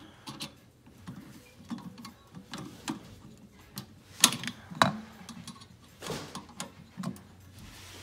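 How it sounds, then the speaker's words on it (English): A bolt tightened on a freshie stand during assembly gives close, irregular clicks and ratcheting ticks with small metallic knocks, and a couple of sharper taps midway. "So now I'm going to tighten that again."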